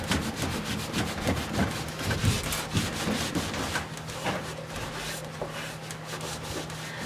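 Paint being rubbed onto a wooden buffet, steady scratchy friction strokes repeating close by for several seconds, with a faint background hum and no voices.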